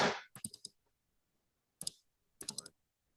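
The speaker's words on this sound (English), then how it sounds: "let's see if I double click this" A computer mouse clicks crisply in a quiet room: a quick cluster of clicks, a lone click, then a final double click, all close and distinct with silence between.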